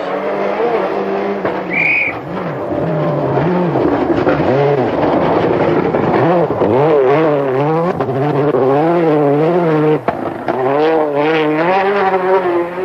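A Subaru rally car at the 2004 Swedish Rally, its engine rising and falling as it revs through gear changes, loud and close with tyre noise across the whole stretch.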